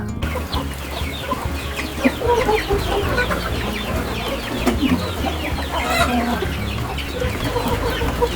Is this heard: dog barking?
no